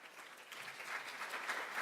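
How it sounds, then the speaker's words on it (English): A room full of people at a policy event on fighting poverty applauds Congressman James Clyburn, a faint, steady patter of clapping heard from a distance. "Please join me in giving me a round warm of applause to Congressman James Clyburn."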